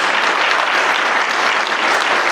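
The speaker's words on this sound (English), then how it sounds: "clap it up for Coach." Audience applause at a school athletic hall of fame induction ceremony, a dense, steady wash of many hands clapping that stays loud and even for the full stretch with no voices.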